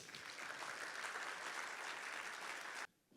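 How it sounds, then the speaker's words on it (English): An audience claps warmly at a morning dialogue event, a dense and steady applause that stops abruptly near the end. "Please give him a warm and a loud round of applause, Brandon Saunders."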